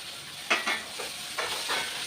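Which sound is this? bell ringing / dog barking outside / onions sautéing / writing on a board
onions sautéing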